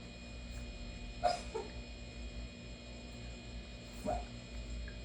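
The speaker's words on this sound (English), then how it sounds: "My dog is dreaming. I don't know if you can hear that, but he's dreaming under my table here." A dog whimpers in its sleep under a table, two faint, brief squeaky yelps spaced a few seconds apart over a quiet room hum.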